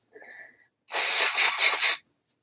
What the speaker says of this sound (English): Just want to blow my nose a little bit more.